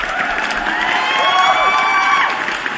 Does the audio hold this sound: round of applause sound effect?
yes